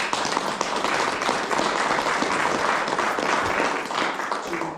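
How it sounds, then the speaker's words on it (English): Loud, dense audience applause at a county sheriffs' law enforcement membership meeting, continuous hand-clapping from a large room filling the whole stretch without pause. "That deserves a round of applause."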